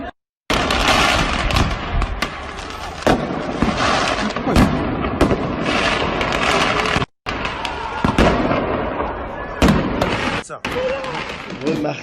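Fireworks crack and pop repeatedly in French suburbs during clashes with police, dense loud bursts in rapid irregular succession, with brief pauses and voices mixed in.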